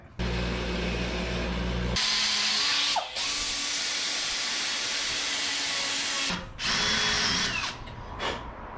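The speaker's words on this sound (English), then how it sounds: "Clean her up with the wire wheel" Wire wheel on a power tool cleaning a metal part for a 1977 Datsun 620, a loud steady whirring grind with a few brief pauses and spin-ups.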